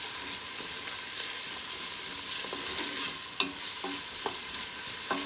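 Bora and chicken fry in a pot with thyme and wiri pepper while being stirred, giving a steady close sizzle with several sharp clicks and scrapes of the spoon against the pot, no voices.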